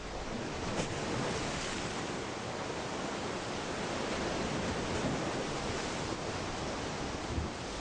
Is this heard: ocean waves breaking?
yes